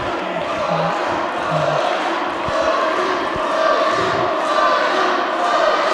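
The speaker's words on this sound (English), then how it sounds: "You can hear both Low-Key and Tyler back and forth from this crowd." Wrestling crowd at a Low Ki versus Tyler Black match, split fans trading dueling chants back and forth, a steady loud mass of voices with occasional thuds throughout.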